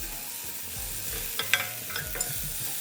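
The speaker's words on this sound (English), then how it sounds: "Now let's add half teaspoon of turmeric powder. Mix well and cook it till 2 to 3 minutes." Tomatoes with turmeric powder cook and are stirred in a pan for potato kurma, a soft steady sizzle with a few distinct scraping clicks of a spoon against the pan, close and without talk.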